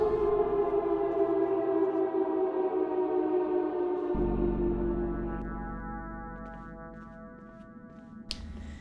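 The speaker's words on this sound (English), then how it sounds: "And the sirens are back." A wailing civil-defense siren sounds in the Project Zomboid zombie survival game, loud and sustained, then sinking in pitch and fading toward the end, with a short sharp click near the close.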